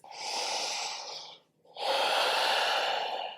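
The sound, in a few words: breathing during a yoga forward fold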